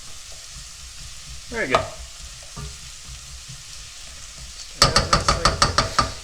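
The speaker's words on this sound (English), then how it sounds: "And I give it a nice stir." Spices and seasonings sizzling in oil in a pot for mushroom beef soup, stirred with a utensil: a scraping swirl, a quiet pause, then a run of sharp, close sizzling crackles, with a brief spoken comment.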